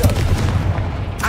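Confringo fire spell blasting in Hogwarts Legacy, a short series of booming, gunfire-like bursts over game ambience, followed by a brighter crackle at the end.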